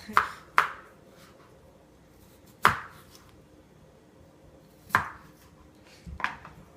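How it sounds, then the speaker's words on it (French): A peeled potato is cut into quarters, with sharp knife chops striking a board at irregular intervals, five distinct close cuts separated by quiet pauses. "éplucher une patate. La couper en 4."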